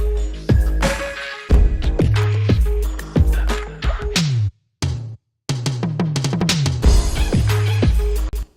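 Placeholder drum fill in a music production session, a loud run of punchy drum hits with kicks and bright cymbal crashes, broken by two short silent gaps before the fill pattern restarts and rolls on to the end.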